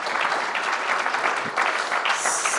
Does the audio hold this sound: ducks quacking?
no